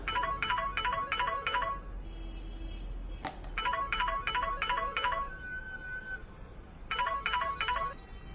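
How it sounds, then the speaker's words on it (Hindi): A mobile phone rings with a repeating electronic ringtone: short bursts of rapid beeps in groups, pausing between, then resuming, fairly clear over a soft background hiss. "तभी अचानक ही नक्श का मोबाइल बज उठा"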